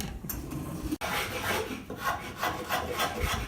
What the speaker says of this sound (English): They're using a tool called a scorp.